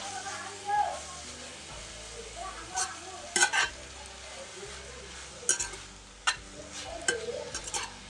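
Freshly grated coconut is stirred into red leafy greens (lal pale bhaji) frying in a pan: scattered scraping clinks of a spoon over a low, continuous sizzle.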